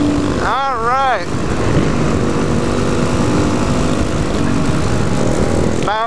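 A KTM supermoto motorcycle engine drones loudly and continuously during a group ride, with a brief rising and falling rev near the start and wind noise throughout.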